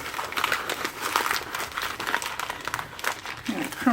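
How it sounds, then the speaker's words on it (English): Composition notebook pages are crumpled by hand for a junk journal: busy crinkling and rustling bursts come up close and fairly loud, with a voice talking briefly near the end. "you can take a couple pages at a time and crumple them up"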